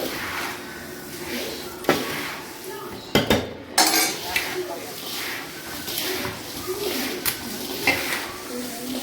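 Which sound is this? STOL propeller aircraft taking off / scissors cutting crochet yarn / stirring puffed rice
stirring puffed rice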